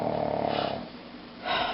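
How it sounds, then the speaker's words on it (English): A sleeping pet snores loudly nearby, two rough, rasping breaths separated by a brief quieter pause. "She snores so loud."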